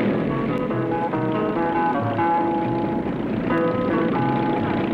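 A small single-seat do-it-yourself autogyro from 1968 in France flying overhead, a steady buzzing propeller engine drone with harmonic whine, fairly loud and continuous without talking.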